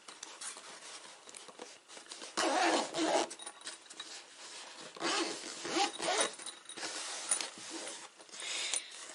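Several zippers are pulled open and shut in quick, scratchy bursts, close by, with rustling fabric between the strokes.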